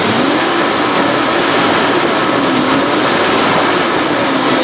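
A car engine on a test bench revving under acceleration during a sensor and throttle actuator check, a steady loud roar held for several seconds, with a faint rising and falling tone beneath and no voices.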